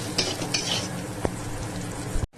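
Something frying and sizzling in a pan, with steady broadband hiss and stirring scrapes, a single sharp clink near the middle, and a brief cut-out at the very end.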